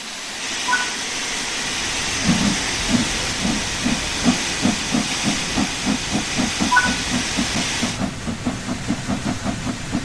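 Steam locomotive in Train Sim World 4 hissing loudly and steadily, with rhythmic chuffing pulses building beneath the hiss before the hiss cuts off near the end.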